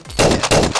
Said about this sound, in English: Gonna have to fast forward through me just shooting this thing a billion times